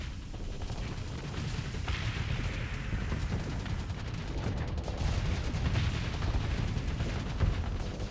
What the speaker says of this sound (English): Shooting shuttles is good target practice.